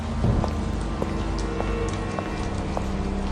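Steady heavy rain in an animated Hindi story, a continuous dense hiss with occasional faint drip-like taps, with no voices over it.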